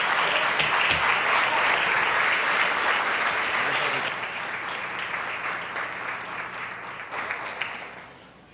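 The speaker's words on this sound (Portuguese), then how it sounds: "eu queria que você aplaudisse e glorificasse o nome do Senhor" A church congregation applauding during an evening worship service, full steady clapping that gradually softens and thins over about eight seconds.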